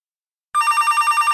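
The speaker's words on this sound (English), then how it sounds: "Somehow I've got a feeling that's going to be Fred on the other end of that phone." A telephone bell rings after a short silence, a loud, steady electronic trill with a rapid pulsing warble that continues to the end.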